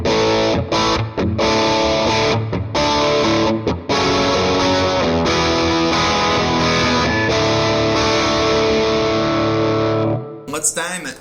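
An electric guitar plays loud, distorted chords and notes through a Dr. Z MAZ 18 amp with its volume a little over halfway, ringing for about ten seconds before cutting out.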